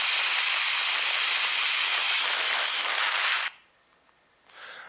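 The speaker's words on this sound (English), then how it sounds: "So this is a little geothermal vent near Krafla volcano, and you get a sense it's steaming away permanently" Steady broadband steam hiss from a small geothermal vent near Krafla volcano in Iceland, loud and continuous for over three seconds before cutting off abruptly, followed by near silence and a faint rise of hiss at the end.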